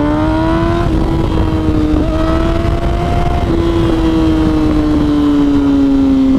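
Motorcycle engine revving and shifting through gears while riding in Miami traffic, loud and continuous with rising and falling pitch, close to the rider.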